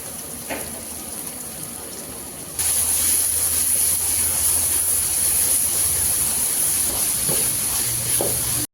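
Ginger garlic paste hits hot oil in a pan while cooking hotel-style tomato rice for a large three-kilo batch, starting with quieter kitchen noise before a loud, steady sizzling hiss bursts in and continues close up with no talking.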